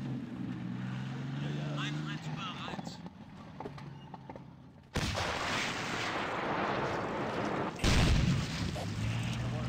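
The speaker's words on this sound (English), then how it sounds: "That is the SU-85, just by rate of fire and sound." An SU-85 tank gun fires in a Battle of Kursk scenario in Real War Game, two heavy booms some seconds apart over rumbling battle ambience, with someone talking early on.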